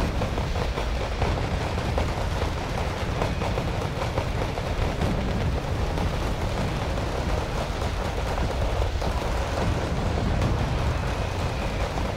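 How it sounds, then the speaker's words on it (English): Dense, continuous rumble of an artillery barrage in a wargame video game, with overlapping booms blending into a steady roar close by, with no talk. "Another artillery barrage"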